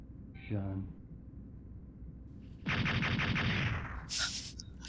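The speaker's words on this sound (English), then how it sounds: "I do like how the explosions ruin these things" Explosions in the video game Mega Man 64 come as a short crackling burst, then a longer rattling blast, followed by a sharp high electronic effect.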